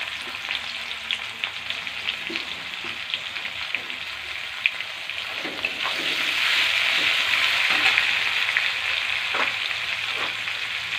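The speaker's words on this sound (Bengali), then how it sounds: "দিয়ে পেঁয়াজটা ভাজতে থাকবে।" Onions frying in oil for a mutton curry, a steady hissing sizzle with occasional stirring clicks that grows louder midway and continues without speech.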